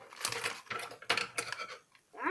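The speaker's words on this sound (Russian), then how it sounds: "открываем этот пакетик" Crinkly rustling of a small plastic bag of Lego pieces being torn and opened, several sharp irregular bursts over about two seconds, close and alone.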